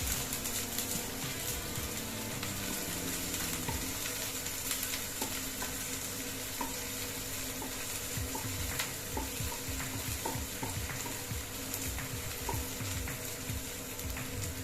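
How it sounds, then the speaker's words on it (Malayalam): Chopped onions fry in oil with chillies and curry leaves, a soft continuous sizzle with occasional scrapes and taps of a spoon as they are stirred; fairly quiet and steady throughout, with no talking. "ഇതിലേക്ക് അരിഞ്ഞു വെച്ചിരിക്കുന്ന ഉള്ളി ചേർത്ത് കൊടുക്കാം. ഇത് നല്ലതുപോലെ ഒന്ന് ഇളക്കി കൊടുക്കാം."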